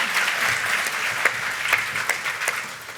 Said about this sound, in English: let's give a round of applause for the servers who are here today serving our delicious